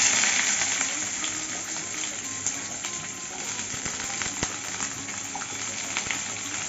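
Chopped onion sizzles in hot oil spiced with a split dried chilli and nigella seeds, a loud steady frying hiss with occasional pops and stirring clicks, no talking.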